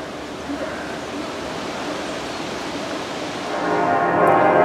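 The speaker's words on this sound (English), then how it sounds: "The church bells are ringing out." Church bells ring out on Remembrance Sunday near Berlin, a lakeside setting with rowboats. They begin distant and washed in outdoor noise, then swell into a fuller, sustained ringing toward the end.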